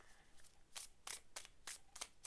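Tarot cards being shuffled by hand, a series of soft, crisp riffles and slaps in an uneven rhythm, close but very quiet, with no voices.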